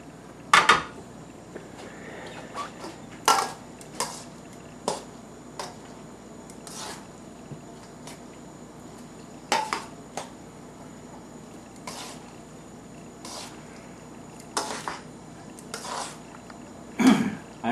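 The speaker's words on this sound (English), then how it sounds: "I'm mixing this for one is just to combine all the vegetables with this pasta" Pasta tossed with vegetables in a pan for pasta primavera, heard as scattered sharp clinks and scrapes of a utensil against the pan over a quiet, steady background.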